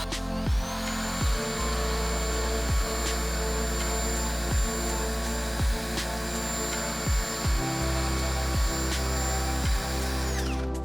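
A drill spins a red abrasive pad against a metal part's surface, a continuous close motor whine with a steady scrubbing hum and rhythmic low thumps as the pad presses on.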